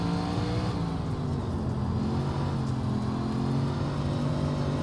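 A 358 Modified dirt race car engine in the iRacing sim drones steadily and loudly close by, holding a sustained rumbling tone with slight pitch shifts as the throttle varies, with no pauses.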